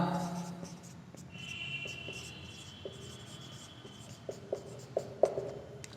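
Pen or chalk writing during a Sanskrit lesson for a Class 9 student, soft scratchy strokes running continuously close by, with a few sharper taps near the end and faint background noise.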